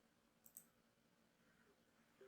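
A computer mouse right-click in a quiet room: a couple of soft, faint clicks spaced apart, with a sharper click right at the end.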